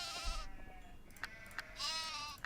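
Sheep bleating inside a video game, a few wavering, nasal calls broken by short clicky game sounds, fairly close and clear with no talk over them.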